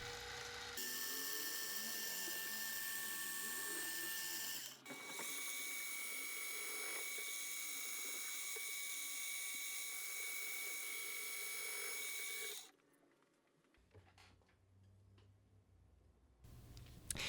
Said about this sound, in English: made a bunch of entry point cuts for where I would insert the end mill to make the cut of the outline